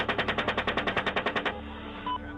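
Rapid burst of heavy gunfire from a US military helicopter in Iraq, about fifteen evenly spaced shots over a second and a half, loud and close, then cutting off into quieter background noise.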